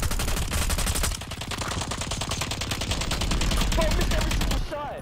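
Rapid gunfire in Call of Duty Black Ops 6 Resurgence, a dense, steady stream of automatic shots that runs for several seconds before cutting off. Players' voices come through faintly underneath.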